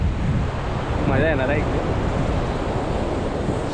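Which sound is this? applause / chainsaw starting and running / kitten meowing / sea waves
sea waves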